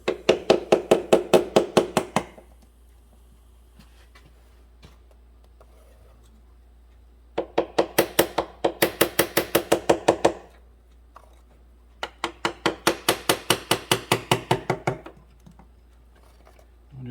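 A screwdriver taps beneath a tight dowel in a 2009 Toyota Corolla 1.8 engine, sounding as three quick bursts of close, sharp metallic knocks separated by short silences.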